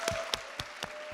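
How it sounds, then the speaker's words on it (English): Audience applause for conference speakers and workshop organisers at a tech meetup event, with a few distinct loud claps standing out over a steady wash of crowd clapping. "Please give them a giant applause"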